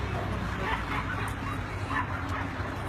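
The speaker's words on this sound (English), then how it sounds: "They got a husky that barks a lot" A dog barks and yips in short, irregular bursts at some distance on a neighborhood street, mixed with a faint murmur of voices and background noise.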